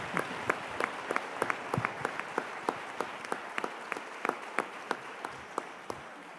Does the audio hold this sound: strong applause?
yes